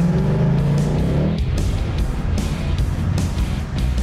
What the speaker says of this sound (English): Magnaflow definitely makes a Mustang sound good